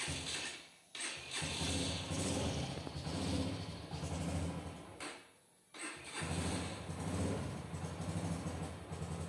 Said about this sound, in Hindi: तो इस तरीके से आपकी बाइक स्टार्ट हो जाएगी